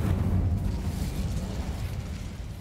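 Incendio fire spell cast in Hogwarts Legacy, a loud, dense burst of flame that roars and sustains through the whole moment with no talk over it.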